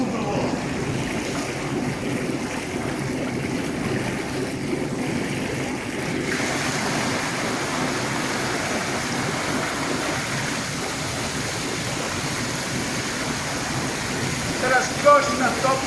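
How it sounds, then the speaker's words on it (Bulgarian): Warm mineral water flows steadily into a spa pool at a resort in Velingrad, a continuous, loud rushing wash that stays even throughout with a few small splashes near the end. "Разкошна топла минерална вода."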